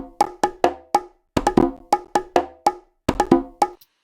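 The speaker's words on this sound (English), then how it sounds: "here I did some really simple rhythmic pattern, and you can hear it without the effect right now" A simple rhythmic percussion pattern programmed in Ableton Live plays dry, with sharp, evenly spaced hits in short bursts and brief gaps of silence between phrases.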